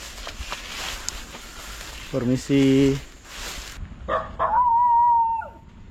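A dog outdoors barks and howls from a short distance: a brief cluster of tonal yelps followed by a longer drawn-out howl, with a person's voice and background ambience nearby.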